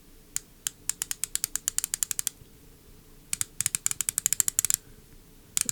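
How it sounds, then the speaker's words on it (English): An Uyecove torque wrench ratchet clicking as it is turned, fine sharp ticks in two quick bursts close by, over a low hum of background PC fan noise. "it should enable you to hear the clicks"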